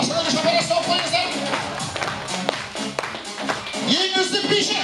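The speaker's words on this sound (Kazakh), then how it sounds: "Баршаларға шапалақ соғып қойыңыздар" Guests at a 40th birthday celebration clap together in a dense, lively burst of applause, with voices and party noise mixed in throughout.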